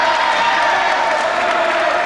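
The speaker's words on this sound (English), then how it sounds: "as they cheer on Duxie Walsh, their favourite and the Irish champion, against John Bike" A pent-up crowd cheers and applauds at the 1988 Dublin Millennium International Challenge, backing Irish champion Duxie Walsh against John Bike with the Waterford crystal at stake. It comes as a loud, steady wash of voices and clapping with no breaks.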